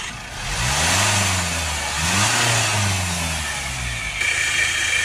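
Land Rover 2.0 engine running with a dry pulley, a steady mid-pitched hum that rises and falls with light revs, heard close and alone without any talking.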